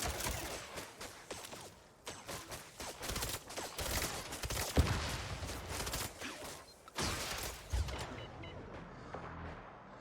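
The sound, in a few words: gunfire in video game Mindseye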